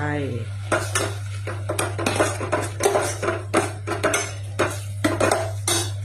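Pork is stirred in a cooking pot for a curry with galangal and lemongrass. A spoon scrapes and clinks repeatedly against the pot in an irregular rhythm over a steady low hum, close up and fairly loud.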